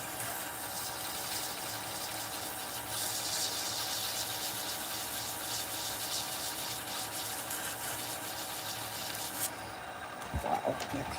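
Sanding wood by hand with sandpaper during a woodworking session: a continuous abrasive scratching hiss, steady and fairly faint, running for several seconds before stopping with a few handling knocks.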